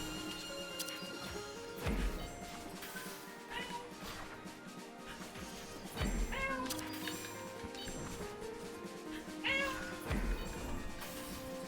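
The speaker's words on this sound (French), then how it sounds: "le chat est en train de péter un plomb" A cat meows and caterwauls in the game Rabbit & Steel, several loud cries repeating at intervals over busy game music and effects.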